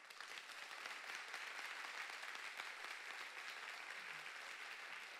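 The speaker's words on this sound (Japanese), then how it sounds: "ではボットワードもう一回やってほしい方、拍手をお願いします。" A conference audience at a tech event claps steadily for about five seconds, a dense, even wash of applause heard from within the hall, fairly faint overall with no talking.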